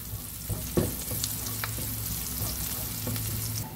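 Garlic sizzles in hot cooking oil, a loud continuous frying crackle close by with occasional utensil scrapes and a low hum underneath, no voices.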